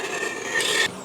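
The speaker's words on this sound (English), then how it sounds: "Here goes my knife around the edges." A knife scraping frosting around the edges of a blue velvet cake, one continuous close rasping smear that swells slightly louder before stopping abruptly.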